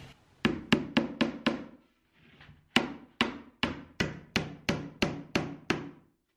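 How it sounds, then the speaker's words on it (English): Hammer blows drive nails into pre-drilled tongue and groove wood siding on a film studio wall, about fourteen sharp close strikes in two quick runs with a brief pause between them. "and then put one of those nails back in there."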